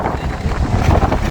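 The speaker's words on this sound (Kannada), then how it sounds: "ಫುಲ್ ಗಾಳಿ ಅಂದ್ರೆ ಗಾಳಿ ಐತಿ ನೋಡ್ರಿ" Strong outdoor wind roars and buffets the microphone in a loud, continuous rush with uneven gusts, and no other sound stands out.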